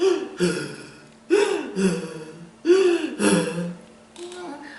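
A person imitates a monster breathing through the mouth, with three loud, heavy, rasping pant cycles, each a sharp inhale followed by a slower exhale, close and alone, trailing into a softer fourth breath.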